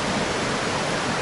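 A waterfall makes a steady, dense rushing roar that fills the whole moment without a break. No voices are heard.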